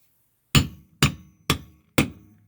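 Four sharp, evenly spaced hammer blows strike a metal tool to drive out a rivet, each a loud close crack with a brief ringing tail.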